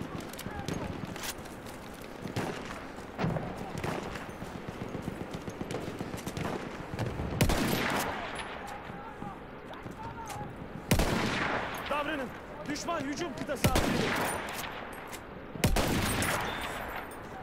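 Sniper rifle shots and scattered gunfire from a Battlefield 1 multiplayer match, a few loud sharp cracks standing out over steady battlefield noise and repeated firing throughout.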